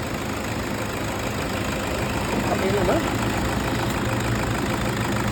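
Steady car engine idling with a continuous low rumble, close and fairly loud, in a repair shop on a rainy day.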